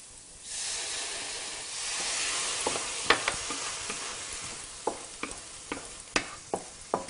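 Water splashed onto onions cooking in a wok bursts into a loud hissing steam sizzle, followed by a steady fry and repeated sharp scrapes and taps of a spatula.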